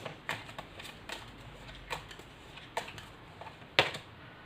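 Tarot cards being drawn and handled from a deck, with soft dry clicks and riffling taps scattered across the moment, one sharper snap near the end, all fairly quiet with no talking.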